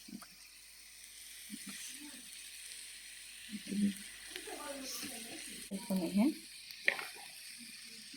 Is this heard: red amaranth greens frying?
yes